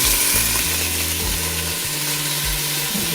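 Soy glazed chicken pieces browning in a frying pan, a steady close hiss and sizzle of fat that continues throughout, broken by a few low scraping tones, with no voice over it.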